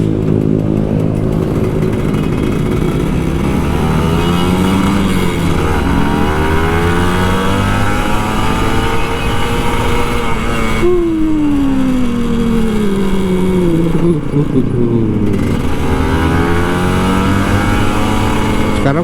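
Kawasaki Ninja RR 150 motorcycle engine revving on a night ride through Jakarta streets, loud and close throughout, with rising and falling throttle sweeps and gear changes over a steady buzzing exhaust.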